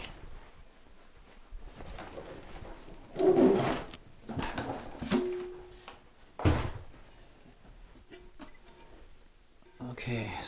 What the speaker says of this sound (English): I'm going to open up the tank and just show you some of the pieces for it